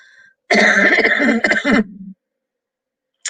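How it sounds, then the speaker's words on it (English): One person coughs close by, a harsh rasping fit of several quick hacks running together for about a second and a half, then silence. "Excuse me for all my coughing."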